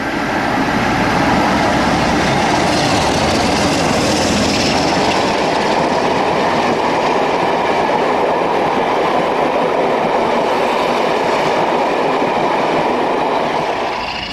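British Class 47 diesel locomotive 47807 coasts down the Lickey incline with a loud, steady rumble and rail clatter, then its engine power comes back on, all close by without voices.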